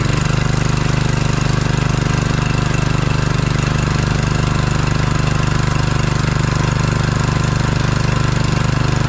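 A small engine runs steadily at a constant idle-like pace, loud and close throughout. It powers a homemade rope tow, and no voices are heard.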